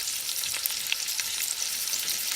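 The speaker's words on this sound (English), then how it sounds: "I got bacon that I just fried up in there and some of the grease" Bacon grease frying in a pan during home soul food dinner cooking, a steady, close, bright crackling sizzle with scattered pops throughout, no voices.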